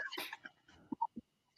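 A single sneeze indoors during an online group session, a sharp burst followed by a few faint short sounds, with no speech over it.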